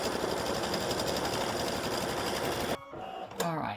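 Embroidery sewing machine stitching an in-the-hoop coaster on a small 4x4 hoop, a steady loud rhythmic whir of rapid needle strokes that cuts off near the end, followed by a few brief mechanical clicks and a short whine.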